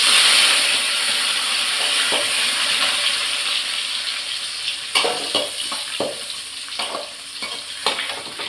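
Mustard seeds spluttering in hot oil as onion and curry leaves are added and fry for a South Indian vegetable dish: a steady, close sizzling hiss, later broken by a run of sharp pops and crackles.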